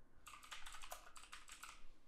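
Rapid clicking keystrokes on a computer keyboard as a short to-do item is typed, a quick burst of close, quiet taps lasting under two seconds with no speech.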